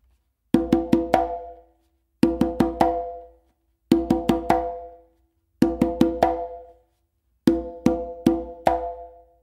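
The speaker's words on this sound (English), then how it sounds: "then 2 opens with your non-dominant hand on the conga." Hand drumming on a conga, played alone and close: five evenly spaced groups, each a quick run of four or five ringing open tones and a sharp slap that decay between groups.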